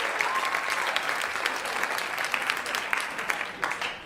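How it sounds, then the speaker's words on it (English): Audience at a stand-up comedy show breaks into sustained applause, a dense wash of many hands clapping steadily for about four seconds, fairly loud and close, with no clear speech over it. "You can clap."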